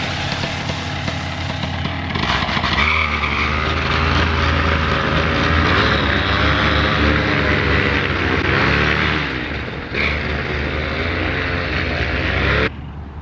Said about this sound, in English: so we got the paramotor lined up